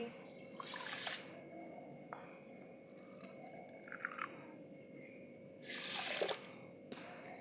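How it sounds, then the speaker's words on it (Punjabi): Water is poured into a wok in two short bursts, splashing and gurgling, with quieter clinks and drips in between. "ਡੇਢ ਕੌਲੀ ਪਾਣੀ ਦੀ ਪਾਵਾਂਗੇ"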